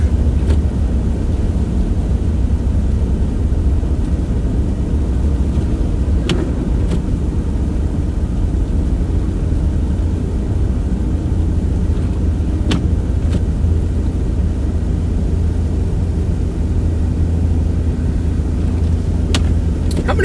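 A car drives along an unplowed, snow-covered highway during a Wisconsin winter storm, tires following earlier tracks. A loud, steady engine and road rumble fills the cabin with no breaks and no speech.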